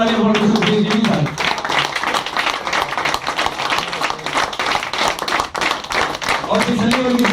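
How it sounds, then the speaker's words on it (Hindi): An audience claps loudly and continuously at an Indian stage event, a dense burst of applause carrying through the whole stretch. "जोरदार तालियां"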